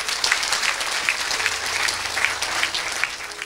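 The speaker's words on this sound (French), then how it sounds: "Est-ce qu'on peut acclamer pour Jésus?" A church congregation applauds for Jesus at a lively service, steady dense clapping from many hands filling the room without a break.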